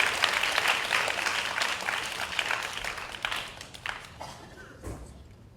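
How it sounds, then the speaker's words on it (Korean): Audience applause at the close of a Nike business-model presentation during a student business model competition, a dense steady clapping that tapers off near the end. "다시 한번 큰 박수 부탁드리겠습니다"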